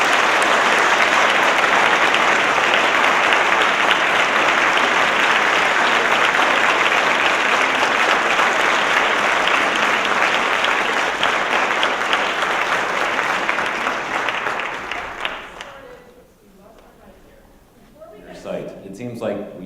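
Sustained, dense applause from a forum audience welcoming speakers Jonathan Tisch and Arianna Huffington, loud and continuous for about fifteen seconds before fading out, followed by a few faint sounds.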